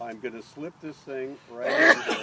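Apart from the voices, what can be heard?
sneeze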